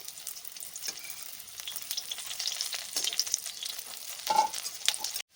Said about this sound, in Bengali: এবার উল্টে পাল্টে আর একটু ভেজে নিতে হবে